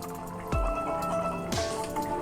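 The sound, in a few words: stirring chicken pulao gently in a pot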